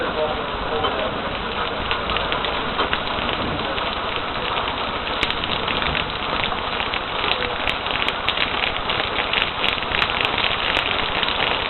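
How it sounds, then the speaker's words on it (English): Heavy rain pouring down outdoors during a lightning storm, a dense, constant hiss of drops on surfaces that runs loud and unbroken throughout. "Was it raining this hard before?"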